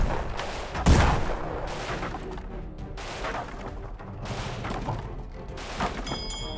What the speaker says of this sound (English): launch some grenades at it